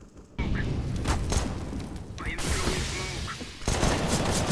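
Dense bursts of rapid Counter-Strike gunfire crackle and boom, loud and continuous with brief shifts in intensity, mixed with some speech.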